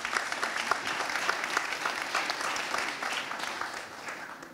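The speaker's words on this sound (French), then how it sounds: "On peut les applaudir" Steady applause from a conference audience at a business talk on artificial intelligence, with dense, even clapping that holds for several seconds and then fades slightly toward the end.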